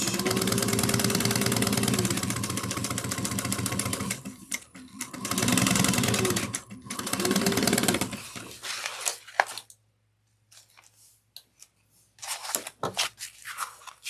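A sewing machine back stitching a 3/8 inch seam runs in two loud, sustained bursts, each stopping abruptly, then gives way to near silence broken by a few faint clicks and handling sounds.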